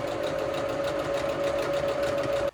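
A sewing machine stitches kids' pixie pants in one steady, continuous run with a constant whirring hum, close and fairly loud, stopping abruptly at the end.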